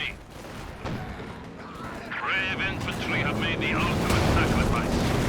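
Anti-aircraft flak base and flak panzer gunfire in Company of Heroes 2, a steady rattling barrage with bursts and explosions building over a rumbling battle bed, with a voice talking over it.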